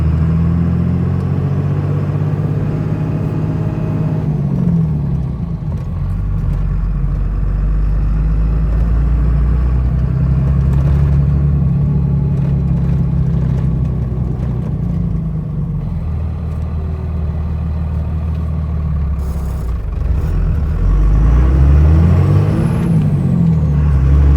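A Cummins diesel pickup with a VP44 injection pump, a five-speed manual and a Fenley Precision Hx35R Gen V turbo drives along, its engine droning loud and close with a deep rumble that rises and falls through gear changes and spool-ups.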